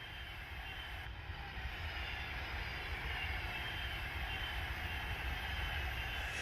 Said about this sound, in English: these are my favourite type of trains, monorails